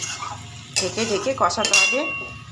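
Steamed drumstick flowers being stir-fried in oil in a pan, a few metal utensil scrapes and clinks over a faint sizzle, close and brief.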